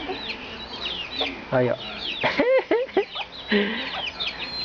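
A rooster clucks in a series of short, close calls, with a voice speaking briefly between them.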